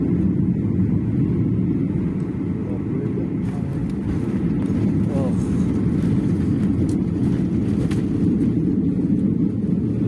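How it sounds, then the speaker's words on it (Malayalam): An Air India Express passenger airplane lands on a flight from Oman to Calicut, heard as a loud, continuous low rumble filling the cabin, with faint clatter above it. "പൈലറ്റ് സുരക്ഷിതമായി വിമാനം ലാൻഡ് ചെയ്തു"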